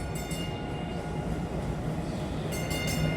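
Tram at Dallas's West End Station gives a steady, loud rolling rumble with a faint metallic ring, continuous throughout with no speech.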